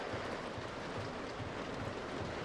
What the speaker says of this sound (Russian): Вообще-то на улице дождь